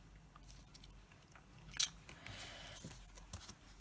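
Scissors cutting a die-cut paper piece for a 6x6 shaker top card box, a few faint close snips with one sharper crisp cut, in a quiet room.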